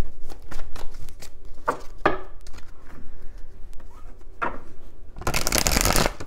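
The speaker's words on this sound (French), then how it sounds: "Je vais bien brasser le jeu." A deck of oracle cards shuffled by hand during a tarot-style reading, with a run of crisp riffling taps and slides followed by a louder, dense riffle burst at the end.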